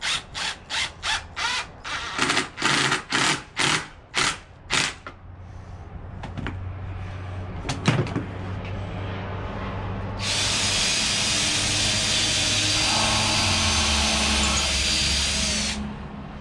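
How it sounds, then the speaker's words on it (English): A power drill bores into very dry wood of a door under a staircase cupboard: a run of short rhythmic bursts, then scattered clicks and knocks, then a long steady high whine from the drill near the end. "we're drilling because the wood is really, really dry."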